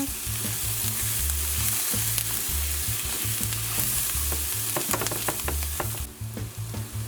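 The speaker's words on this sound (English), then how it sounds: "we're going to give that a mix" Garlic butter mushrooms with herbs stirred in a hot pan, a loud continuous sizzle with repeated scraping strokes of a spatula and a low rhythmic hum underneath, easing off near the end.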